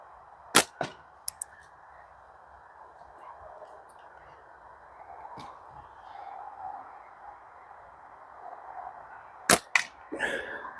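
Delta 9 M31-A Wasp slingshot shots striking pheasant head targets from 15 meters, heard as a few sharp, isolated cracks and snaps over a quiet, steady background hum.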